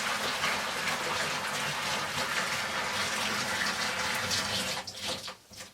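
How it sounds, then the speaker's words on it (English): Hot water pours steadily into a sink in a gushing, continuous stream, close and fairly loud, breaking up into splashes and trickles just before the end. "So I'm gonna pour some hot water into the"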